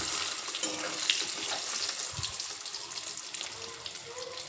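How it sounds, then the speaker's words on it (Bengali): Eggs frying lightly in hot oil in a pan, a continuous quiet sizzle and crackle with small pops, steady throughout at a low level. "সেই জন্য এখানে আমি ডিমগুলো হালকা ভেজে নেব"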